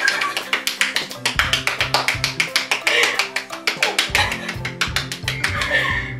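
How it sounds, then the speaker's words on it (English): One person claps hands rapidly and repeatedly in quick succession, dozens of sharp, close claps in a fast, steady rhythm with brief pauses, over faint background music. "Clap 50 times."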